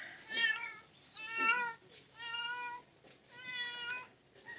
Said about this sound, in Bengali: বিলাই